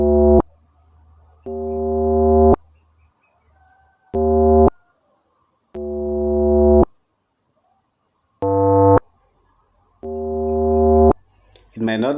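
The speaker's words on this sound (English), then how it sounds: "After that, I added a spring lock drum." Heavily manipulated spring lock drum sample in FL Studio Mobile for an amapiano beat, heard as loud, buzzy pitched tones repeating in short bursts and rising swells separated by silences, alone with no talking.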